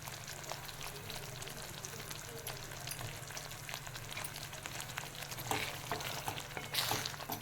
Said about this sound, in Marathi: आता पाच मिनटं खतखतलेलं आहे चांगला उकळ आलेली आहे